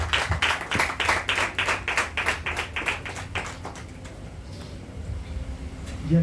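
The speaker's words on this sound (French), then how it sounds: "Applaudissez." Congregation at a church service clapping in a loud, rapid rhythmic burst of distinct claps that fades out after about four seconds, leaving quiet room tone.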